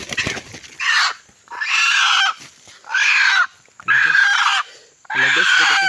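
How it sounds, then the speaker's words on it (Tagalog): A wild red junglefowl caught in a trap struggles close by, with five loud, harsh bursts of flapping and squawking separated by short pauses. "Hala guys nakakawag manok guys."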